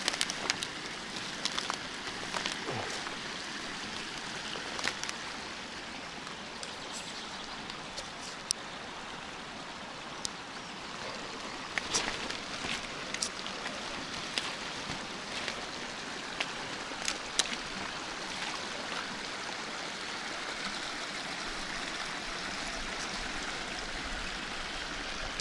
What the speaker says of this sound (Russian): Ручьи кругом бегут.